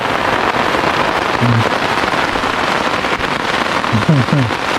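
Steady rain hisses and patters close by at a fishing campsite in Phitsanulok, Thailand, a continuous wash of drops with no clear talk.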